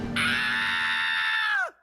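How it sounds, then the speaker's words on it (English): A Ben 10 cartoon character lets out a long, loud, sustained excited scream, held steadily for over a second before dropping off sharply at the end, heard alone and up close. "one of the highlights of this episode being Ben's scream when he finds out that there's going to be a Sumo Slammers movie"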